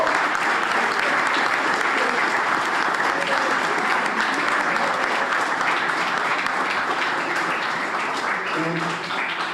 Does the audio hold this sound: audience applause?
yes